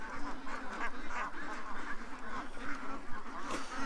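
Many ducks quack together in a continuous, overlapping chorus, some calls standing out closer while the flock keeps up a steady outdoor chatter.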